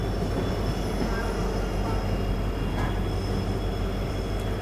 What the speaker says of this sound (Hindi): जिस कारणवश ये जो ट्रेन है वो आज फाइनली चल रही है